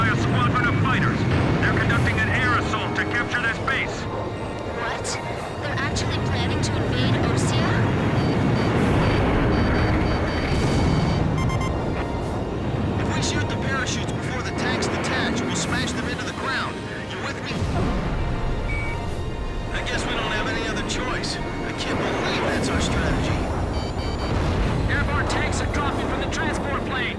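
Military jets in the Ace Combat 5 video game roar continuously, their engine noise swelling and fading over a dense wash of game sound effects, with voices talking over it throughout.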